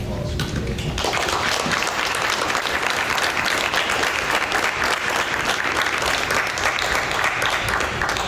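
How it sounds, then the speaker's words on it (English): Applause at a school district meeting honoring an employee breaks out after a brief moment of quiet, then carries on as steady, fairly loud clapping from a room of people without talk over it. "please just give her a round of applause"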